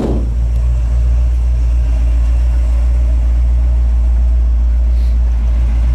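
A 1972 GMC Jimmy idles close by with a Flowmaster exhaust, giving a loud, deep, steady rumble throughout with no one speaking.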